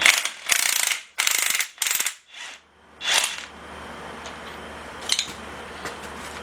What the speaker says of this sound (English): I got a impact gun on this.